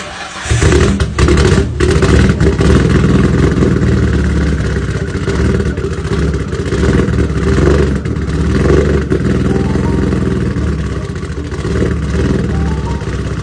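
A Nissan Skyline R33 engine cranks and fires on its first start, then runs loud and rough close by for the rest of the clip, uneven and misfiring. No one speaks.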